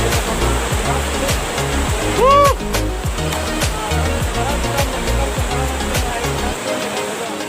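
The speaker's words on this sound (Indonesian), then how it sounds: "kita sudah sampai air terjun pertama ya guys ya" The first tier of Langkuik Tinggi waterfall in Malalak roars as a steady, loud rush of falling water, with a brief vocal exclamation partway through.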